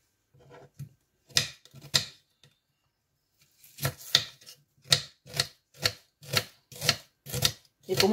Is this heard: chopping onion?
yes